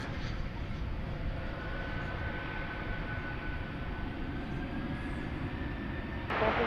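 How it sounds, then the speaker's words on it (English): Boeing 747-400 taking off on a runway at night at DFW Airport, heard as a steady, far-off low jet roar with a faint rising whine, constant throughout and slightly louder at the very end. "the Queen of the Skies, 747-400, is rolling down the runway off to Louisville"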